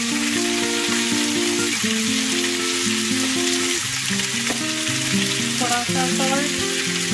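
Vegetables and chicken sauté on a high flame for a sizzler, with bell peppers and black pepper in the pan, giving a loud, continuous frying sizzle and occasional stirring clatter while someone speaks briefly over it.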